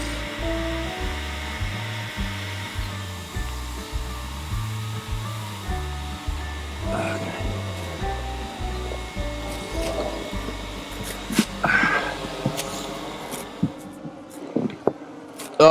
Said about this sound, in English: we're going to start heating the creases up with the heat gun